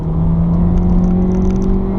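A 2019 VW Tiguan AllSpace Comfortline with front-wheel drive and a Golf GTI engine accelerates, its steady loud engine drone heard from inside the cabin, with a constant hum and faint whir and no voices.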